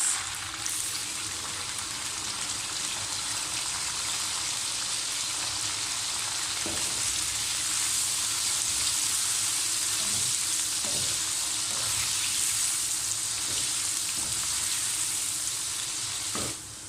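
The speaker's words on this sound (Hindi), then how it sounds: "इसी ऑयल में अपना भिंडियों शामिल करूंगा और जस्ट 1 मिनट के लिए इन्हें फ्राई कर" Okra (bhindi) sizzles and crackles in hot oil with a loud, continuous frying hiss, punctuated by occasional soft stirring knocks.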